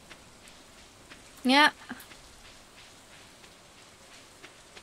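Steady soft rain falls in the farming video game Stardew Valley as a faint, even patter behind one brief spoken word.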